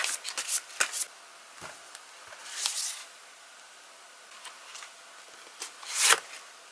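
A deck of tarot cards is shuffled by hand, giving close, crisp riffling and flicking bursts at irregular intervals with softer rustling between them and no talk.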